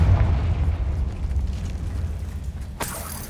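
Confringo spell explosion in Hogwarts Legacy, heard as a low rumbling boom that fades over a few seconds, followed by a sharp burst near the end.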